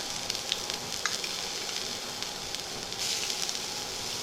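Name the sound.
cumin, red chili, ginger and garlic sizzling in hot oil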